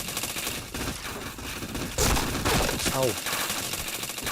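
Gunfire in a first-person shooter video game crackles in rapid bursts over steady game noise, with a player's short exclamation heard.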